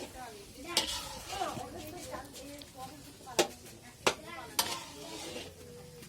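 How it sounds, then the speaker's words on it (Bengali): Cut, boiled potatoes sizzle quietly in a pan while a spatula scrapes and clanks against the metal several times; people talk in the background. "আর দু জায়গায় করে আলু ভাজা হচ্ছিলো"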